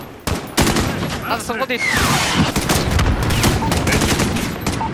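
Rapid bursts of gunfire from the shooter campaign of Call of Duty Modern Warfare crack and rattle continuously, dense and loud. A voice speaks briefly over the shooting.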